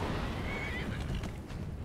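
Horse in the video game Skyrim gives a whinny amid noisy combat, a short rising neigh standing out over a dense rumbling, clattering background.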